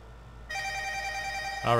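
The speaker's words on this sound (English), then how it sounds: "I'll update while I'm taking care of this phone call" An incoming call sets a telephone ringing with a steady electronic tone. It starts abruptly after a quiet moment, runs on continuously, and a louder burst comes at the end.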